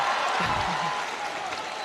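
Crowd cheering and applauding at a men's -74 kg taekwondo championship final in Manchester, a broad steady roar filling the arena throughout with faint commentary-like voices underneath.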